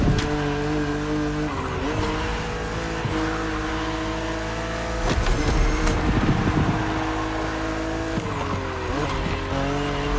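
BMW Z roadster racing in The Crew Motorfest, a loud sustained engine drone with shifting pitch, bursts of tire squeal and skidding around the middle and near the end, with no talking.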